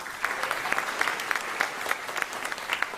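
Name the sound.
audience applause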